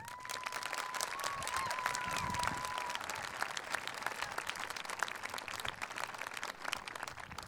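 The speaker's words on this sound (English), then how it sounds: "Let's give these individuals a round of applause." Graduation audience at a high school ceremony applauding, a fairly faint, steady wash of clapping from a crowd, with a brief whistle-like tone early on.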